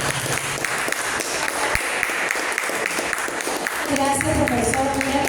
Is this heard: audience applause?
yes